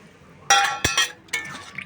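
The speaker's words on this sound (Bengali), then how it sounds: "এবার আমি একটু জল দিয়ে দিই।" Water poured into a pan of fried fish roe, sizzling in hot oil for a sour fish-roe curry: a quiet lead-in, then a loud splashing burst with bright clinks around the midpoint and a shorter pour near the end.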